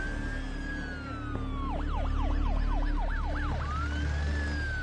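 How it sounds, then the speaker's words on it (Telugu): An ambulance siren heard on a road near an accident scene, first a long steady wail, then a rapid rising-and-falling yelp, then back to a wail, loud and close over a constant engine and traffic rumble, with no voices. "ఇటువైపు నుంచి అంబులెన్స్ వెళ్తుంది."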